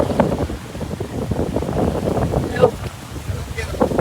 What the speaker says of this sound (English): Wow, the wind here is so strong.